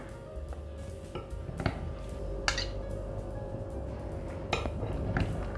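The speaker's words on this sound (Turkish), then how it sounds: "Ve son aşama salatamı artık karıştırıyorum." Potato salad with fresh mint, onion and tomato being tossed in a bowl, giving sparse soft clinks and wet squishing taps over a quiet steady room hum, with no talking.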